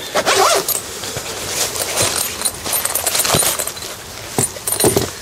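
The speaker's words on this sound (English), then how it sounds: "And then open up the zip." YKK zip being pulled open around a fabric patch book, a continuous close ratcheting rasp lasting several seconds.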